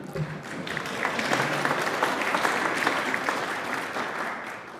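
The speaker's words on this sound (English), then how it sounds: "this is where I normally invite you all to clap," A conference audience at a network operators' meeting breaks into steady, moderately loud clapping that holds evenly for several seconds.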